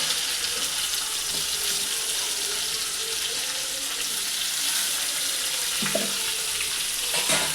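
Tomato and crushed garlic sautéing in a pan, a steady, close, bright sizzle that holds evenly throughout, with a few faint utensil scrapes near the end.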